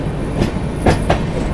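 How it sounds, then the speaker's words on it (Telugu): A double decker train slows past a small local railway station, with steady low rumble and a few faint clicks of wheels over rail joints, no voices. "ట్రైన్ అయితే స్లో అయిపోయింది"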